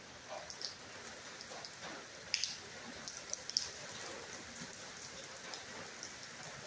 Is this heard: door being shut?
no